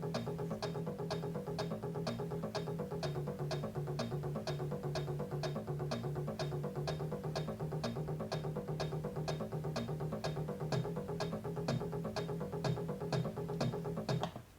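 A driving rock intro made in SoundTracker tracker software, with a steady low bass line and a repeating guitar riff over a regular pulsing beat, loud and continuous throughout.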